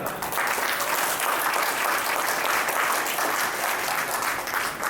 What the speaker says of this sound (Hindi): आप लोग बहुत आभारी, जोरदार तालियां अपने।